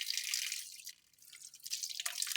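Water drips and splashes while fresh guso seaweed is rinsed clean of leafy bits, a steady close patter of droplets with a brief lull partway through and no voices.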